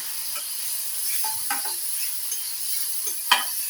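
Onion, ginger, garlic and ground spices with turmeric frying in a pan with a little water for fish egg curry, a soft steady sizzle broken by a few scraping stirs and one sharp clink near the end.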